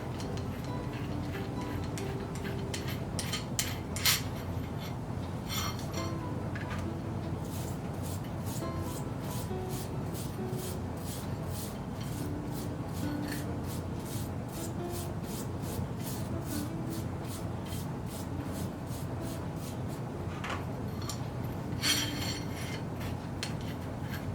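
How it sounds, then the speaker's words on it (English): A rusty nut spun by hand along a bolt's threads to clean them, giving a steady low rubbing, ticking scrape that runs continuously at close range with small clicks throughout. "I'm using one thread to clean the other."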